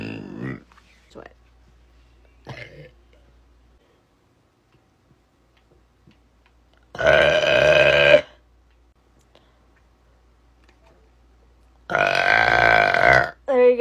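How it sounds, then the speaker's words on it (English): A woman lets out two loud, drawn-out burps, each lasting over a second, separated by several seconds of near silence. A few faint clicks and soft sounds come earlier. "I burp a lot."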